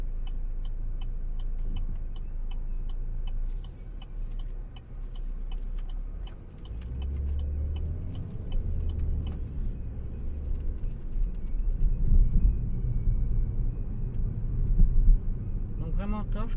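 Car driving on a road with a beige leather interior and leather steering wheel, a steady low engine and road rumble throughout that swells toward the end, with faint ticking and someone talking over it.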